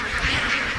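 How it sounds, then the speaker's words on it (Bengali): Belgian-breed ducks on a farm of 550 birds give a brief, loud burst of overlapping quacks close by. "সুন্দর পরিপাটি এবং গোছানো এই খামারটিতে রয়েছে 550 বেলজিয়াম জাতের হাঁস"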